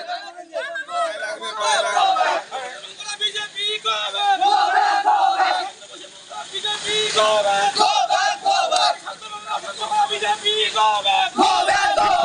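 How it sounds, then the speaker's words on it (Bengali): Crowd in Sitalkuchi chanting slogans at visiting BJP legislators, loud rhythmic shouting from many voices in repeated bursts, with brief gaps, close and energetic. "সেখানে গো ব্যাক স্লোগান শুনতে হলো শীতলকুচিতে"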